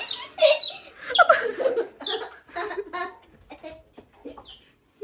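Chickens clucking on a farm, near and fairly loud, as short bursts of calls with people's voices and some laughter.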